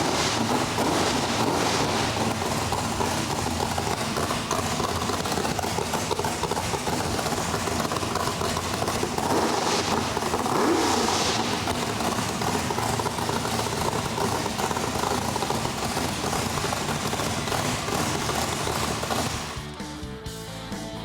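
A small engine, after troubleshooting a no-start problem, runs steadily with a loud, continuous drone and mechanical rattle that holds for most of the stretch, then drops off abruptly near the end; no talking.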